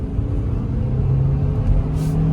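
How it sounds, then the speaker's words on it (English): A turbocharged 1.5-litre engine in a Kia Carens iMT hums and builds steadily as it accelerates, a low continuous drone from inside the vehicle. "And the engine sounds amazing."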